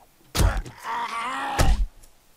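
Two heavy thumps, like blows against a door, with a drawn-out monstrous groan between them, close and loud, as zombies attack a house in the video game 7 Days to Die.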